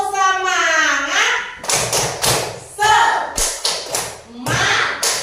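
A group of children claps a rhythmic spirit cheer in a classroom, with bursts of sharp claps in patterned beats. Kids chant and talk between and over the clapping.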